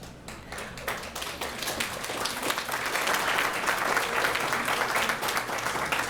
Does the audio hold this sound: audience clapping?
yes